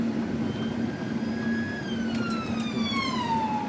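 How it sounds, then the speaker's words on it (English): An ambulance siren wails as the vehicle drives past on the street, its falling tones sweeping down steadily over a constant road-traffic rumble, loud and near with no talking. "we just had an ambulance just drive past me"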